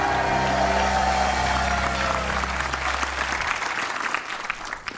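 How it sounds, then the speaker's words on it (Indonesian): A television talk show studio audience breaks into loud, sustained applause and cheering, with a held music chord underneath that cuts off partway while the clapping carries on. "Tepuk tangan dulu buat Anjani."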